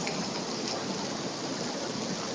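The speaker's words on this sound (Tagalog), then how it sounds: "Ayan po, umuulan po ngayon ng ice." Heavy hail pelting down at Beijing National Stadium, the Bird's Nest, as a dense, steady hiss and patter of countless stones striking surfaces, continuous and enveloping without pause.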